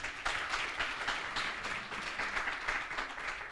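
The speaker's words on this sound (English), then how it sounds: "Colleagues, we should have clapped louder than that." An audience at a youth agricultural conference applauds as the symposium closes, many hands clapping in a sustained, fairly even burst of moderate loudness.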